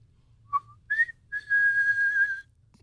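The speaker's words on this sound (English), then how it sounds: "That was a really bad whistle." Someone whistles a few short rising notes, then holds one long, slightly wavering tone; clear and close, with no talking.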